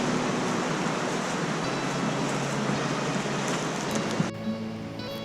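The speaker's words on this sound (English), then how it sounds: "we were being sheltered from the rain" Rain falls steadily at a lakeside campsite, a dense, even hiss of drops that stops abruptly near the end, leaving quieter background.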